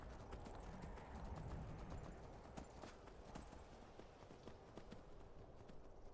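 Horse hooves clip-clop steadily in the Skyrim video game, a quiet, even trotting rhythm with a faint whinny in the background and nobody talking.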